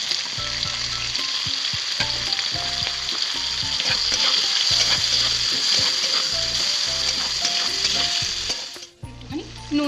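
Chopped onion, garlic and green chili fry in mustard oil in a pan, giving a loud, steady sizzle with repeated stirring scrapes throughout, briefly dipping near the end.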